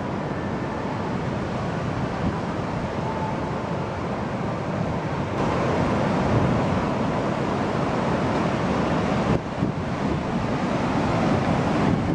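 Surf breaks on a beach in Vietnam as a continuous loud wash of waves, heavy with wind rumble on the microphone, with no talking over it.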